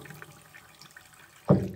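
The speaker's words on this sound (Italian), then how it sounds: "Puoi tappare un pochettino il lavandino con un pochino di acqua tiepida" Warm tap water gushes suddenly into a stoppered sink during floor cleaning, a loud close splash that arrives after a stretch of quiet room sound.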